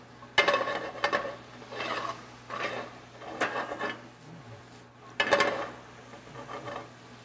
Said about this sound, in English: So we're going to toss those shrooms.